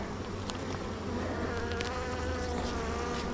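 Honeybees buzzing around a backyard hive being readied for winter, a dense, steady swarm hum close by with individual bees droning past, no talk.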